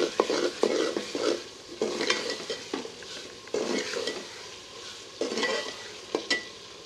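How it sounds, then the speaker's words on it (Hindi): Crushed red chilli and spices frying in a pan for brinjal bharta, a steady sizzle broken by repeated scraping strokes of a spoon stirring, close and moderately loud with no voices. "इसको थोड़ी देर के लिए भून लेंगे।"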